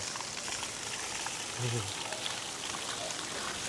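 Water flowing in a mountain stream near a bridge in Catmon, Cebu, a constant rushing wash with a brief low voice murmuring partway through.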